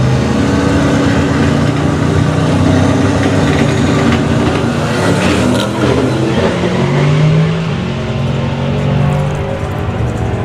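A 2,500 hp street car roars down the drag strip at Santa Pod Raceway, its engine blaring loud and sustained throughout, with a brief rise in intensity midway before it holds steady.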